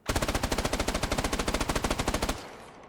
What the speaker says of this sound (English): I want everyone to pay attention to the recoil pattern when I shoot at the wall